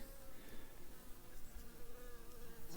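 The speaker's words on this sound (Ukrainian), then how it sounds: "бджілки літають" Honey bees buzz around beehives, a dense, steady drone of many wings close by, with no voices.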